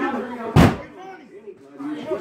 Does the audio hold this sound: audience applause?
no